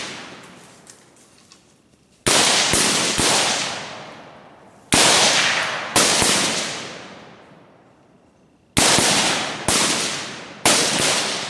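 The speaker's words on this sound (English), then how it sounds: "Somebody be shooting!" Gunfire during a tactical assault: loud, sharp shots in close clusters, some fired in quick doubles and triples, each followed by a long ringing decay, with quiet gaps between bursts.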